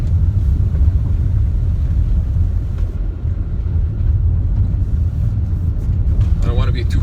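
A Škoda Karoq Style 2.0 TDI 4x4 on the move: a steady low engine and road rumble fills the cabin, with tyre and wind noise layered on top and a brief whine of revs near the end.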